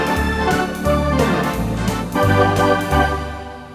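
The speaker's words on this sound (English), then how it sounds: "I usually finish off with this big, kind of just a nice big jazzy kind of an organ sound." A big, jazzy organ tone from a keyboard's Awesome Organ preset plays sustained chords with a deep bass line, full and steady with no talking.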